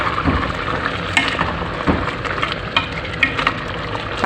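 Caldereta stew being stirred and mixed in a pot after black pepper and chili are added, a steady sizzling simmer with repeated scraping and stirring strokes close by, no talking.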